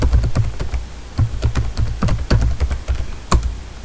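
Steady, close bursts of typing on a computer keyboard while a Cisco router command for service password encryption is entered, with quick irregular key taps and brief pauses and no talk.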